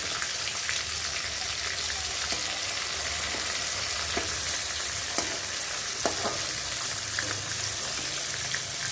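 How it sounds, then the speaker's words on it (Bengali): Garlic and tomato fry in a pan as the tomato skins lift off. A steady close sizzle carries scattered sharp crackles and pops throughout, with no talking. "তো চলো এখন রসুন আর টমেটোটা ভেজে নিই"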